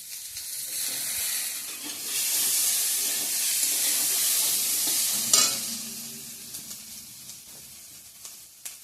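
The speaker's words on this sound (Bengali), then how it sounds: "তো আমার এদিকে আলু কোয়াশ ভাজাটা হচ্ছে" Potatoes and squash fry in a pan with a steady bright sizzle and hiss, a sharp spatter or stir near the middle, then the frying settles to a softer crackle, with no talking.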